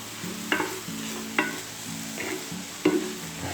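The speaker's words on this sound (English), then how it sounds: "And then we keep on stirring." Cauliflower ginger fried rice being stirred in a pan with a spoon, a soft sizzle underneath and a few sharper scrapes and clinks of the utensil against the pan at irregular intervals.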